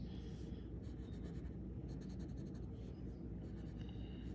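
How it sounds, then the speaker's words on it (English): Pencil or pen scratching on paper while ruling perspective grid lines for a shelf drawing, a steady soft scraping with short strokes, quiet and close. "Use the grid to draw the lines."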